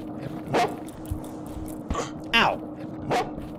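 A dog in the video game Nina the Killer gives several sharp barks and yips spaced about a second apart over a low steady hum, close and clear.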